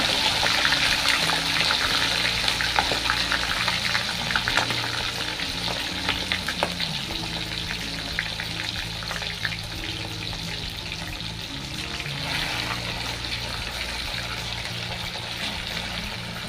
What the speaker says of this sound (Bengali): মা এখানে সাদা তেল গরম করে ওর মধ্যে মাংস পিসগুলি ভাজার জন্য দিয়ে দিল